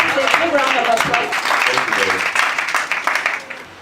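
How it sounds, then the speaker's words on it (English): Applause from the audience at a school graduation ceremony, a steady patter of many hands clapping with voices mixed in, continuing for several seconds before tapering off. "Round of applause"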